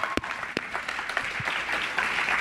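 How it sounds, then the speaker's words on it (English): Audience applause at a live wrestling podcast taping in Cleveland, a steady wash of clapping with a few sharp close claps at the start, sustained for a couple of seconds. "Round of applause, please."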